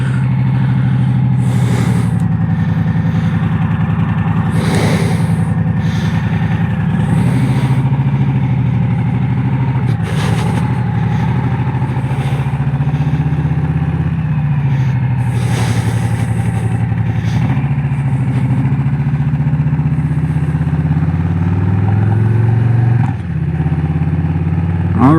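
Cars and trucks speed down a residential street in several quick whooshing passes, heard over a steady, close engine idling throughout.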